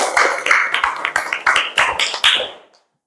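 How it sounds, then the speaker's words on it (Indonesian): A class claps together as group applause during a mathematics lesson on the Pythagorean theorem: around ten sharp, rhythmic claps that stop abruptly. "tepuk tangan untuk kita semua"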